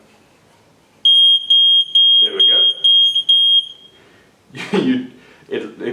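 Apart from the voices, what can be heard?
water leak detector alarm beeping, reverse osmosis system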